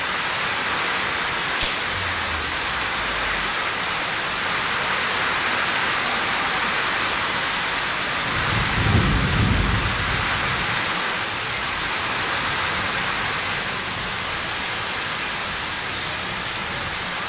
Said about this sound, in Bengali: কঠিন বৃষ্টি